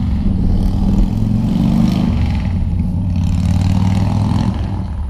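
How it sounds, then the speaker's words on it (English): A loud motorcycle engine rumbling nearby, a heavy, steady low roar that eases slightly toward the end, with no speech over it. "Don't you just hate loud motorcycle when you're trying to listen to a video and learn something?"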